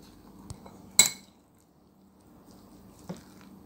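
Half a cup of mayonnaise spooned into cooked chicken masala in a bowl, heat switched off: one sharp close utensil clink against the bowl, with softer taps before and after over quiet kitchen background, no talking.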